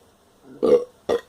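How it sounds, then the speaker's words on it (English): One loud, close burp comes after a sip of Hamilton Brewery Blue Collar Pale Ale, with a short second belch right after it. "Burp's okay."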